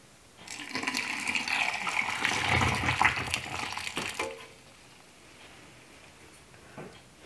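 Honey mustard brine is poured through a funnel into a jar for pickled eggs, a steady splashing, gurgling flow for about four seconds before it stops, leaving quiet room tone and a faint clink.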